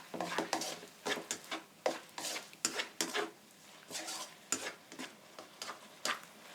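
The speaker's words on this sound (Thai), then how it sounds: "ก็ผัดให้เห็ดสุกดีค่ะ" Mushrooms are stir-fried in a pan, probably for a basil stir-fry, with a spatula scraping and tossing in irregular bursts roughly every half second over a faint sizzle, close and fairly quiet.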